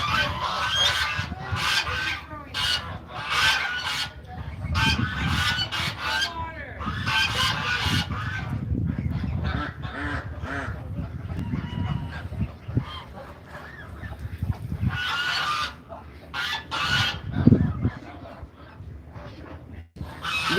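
Ducks honking and squawking in repeated bursts across a busy stretch, fairly close and loud, with a voice talking at times underneath.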